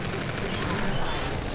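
Rapid automatic fire from the MV4 Prodigy in Call of Duty: Infinite Warfare, a dense continuous burst of gunshots filling the clip, loud and close with game noise around it.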